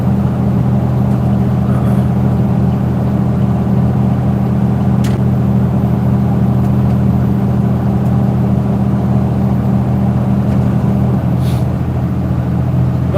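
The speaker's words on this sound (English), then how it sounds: "sounds like the truck I just bought, a 2015 GMC Club Coupe short bed" A 2015 GMC Club Coupe short bed pickup truck gives a steady low engine rumble and drone, constant and fairly loud throughout, with faint occasional clicks.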